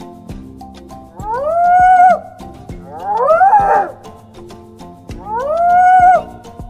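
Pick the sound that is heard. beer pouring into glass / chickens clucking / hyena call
hyena call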